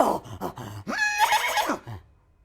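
A person imitates a horse's neigh: a few short breathy grunts lead into one loud, rising and wavering whinny, close and alone, before fading out.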